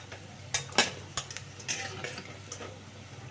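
Ground lentil pakoras fry in oil, giving a soft, steady sizzle under a few sharp utensil clinks and rattles against the pan.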